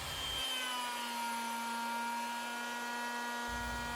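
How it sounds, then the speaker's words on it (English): A router milling dovetail tracks into a wooden mortise machine table, a steady high-pitched motor whine with a constant tone that stays even and close throughout, with no talk. "the dovetail tracks can be milled next"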